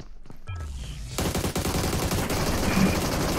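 Rapid automatic gunfire in the PUBG Mobile battle royale game, a dense sustained burst of loud crackling shots after a brief quieter lead-in, close and continuous with no talk.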